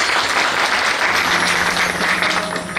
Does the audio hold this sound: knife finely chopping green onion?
no